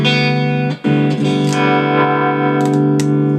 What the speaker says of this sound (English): I like it, I like distortion.